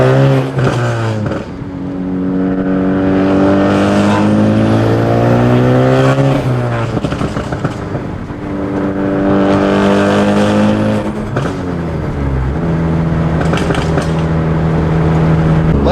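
Big-turbo Ford Focus ST engine starting and revving loudly, with rising and falling rev sweeps and turbo flutter between pulls, close and continuous throughout, no talking.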